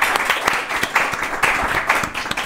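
An audience at an evening show breaks into dense applause for the people present, many hands clapping close and steady for a couple of seconds with no one speaking over it.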